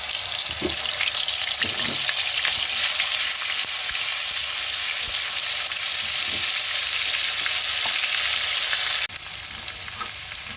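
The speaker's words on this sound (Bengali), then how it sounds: "জিরাটা গরম হওয়ার সাথে সাথে দিয়ে দিলাম একটু আদা বাটা আর অল্প একটু রসুন বাটা" Ginger and garlic paste frying in hot oil with cumin seeds, a dense continuous loud sizzle with occasional stirring scrapes, dropping slightly in level near the end, no voices.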